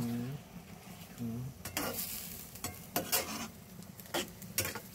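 Pork tenderloin in oyster sauce being stirred in a pan, with a spatula scraping and clinking against the metal in irregular bursts over a soft sizzle, fairly close; a few voiced sounds show at the start.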